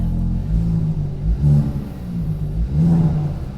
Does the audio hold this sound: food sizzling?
no